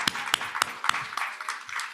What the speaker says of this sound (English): So don't clap for me, clap for yourself. Give yourself a clap.